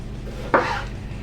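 A knife roughly dicing tomatoes on a chopping board gives one sharp, close thud against the board over a steady background hum.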